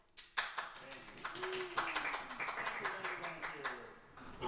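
An audience claps after a trombone faculty trio recital, heard as distinct separate hand claps at a moderate distance alongside a soft voice and some faint tonal sound.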